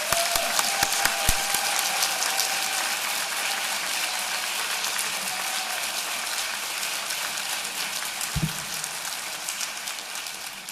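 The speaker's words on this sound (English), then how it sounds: "Please give all of our graduate students a very big round of applause." Sustained applause fills a commencement ceremony for graduate students, a steady dense wash of clapping from a large crowd lasting throughout with no talk.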